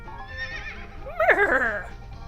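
A horse in the fantasy video game Fantasy Life gives a loud, close whinny that wavers and rises into a sharper second neigh before trailing off.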